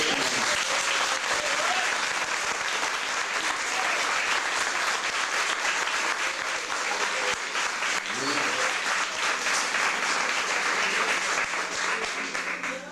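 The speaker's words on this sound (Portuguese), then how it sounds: "você sabe aplaudir ao Senhor? Então me mostra." A church congregation applauds steadily and loudly at a Portuguese-language service led by Pastor Antony Galvão, the dense clapping continuing without pause for nearly thirteen seconds, with a few raised voices mixed in.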